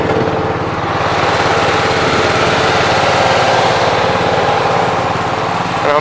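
A small equipment engine runs steadily and loud close by, a continuous buzzing drone with a fast rhythmic pulse that holds the same pace throughout, with no voices over it.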